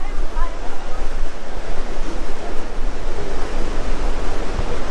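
Ocean waves break on a beach in Bali, a continuous loud roar of surf and wash, steady and close throughout with wind rumble.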